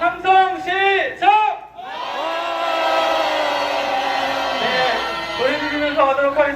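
A street protest crowd in Jeonju roars a long, sustained collective shout, framed by amplified chant calls from a leader at the start and end.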